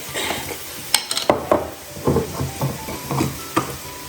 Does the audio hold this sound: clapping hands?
no